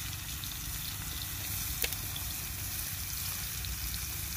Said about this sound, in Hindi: टमाटर हमारे फ्राई ऑलमोस्ट होने वाले हैं। एक साइड फ्राई हो चुकी है, नेक्स्ट हम साइड फ्राई कर रहे हैं